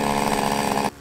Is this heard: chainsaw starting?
yes